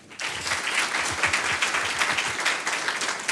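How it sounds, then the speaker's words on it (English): Sustained audience applause fills a board meeting hall, a dense, steady wash of many hands clapping at moderate loudness throughout, with no talk. "So a round of applause for Ms. Shaw"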